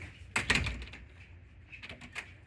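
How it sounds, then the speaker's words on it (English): A door fitted with a door closer swings shut and latches, giving a cluster of sharp metallic clacks followed by fainter clicks as the hardware settles. "when you release the door, it should close and latch automatically"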